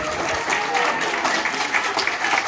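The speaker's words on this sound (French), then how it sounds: "merci pour vos applaudissements" Audience applause at a community paella evening, steady clapping from a crowd throughout, fairly close and even with no pauses.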